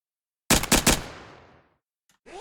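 A trooper character's pistol fires three quick shots in a video game, loud and close, and a decaying tail follows them.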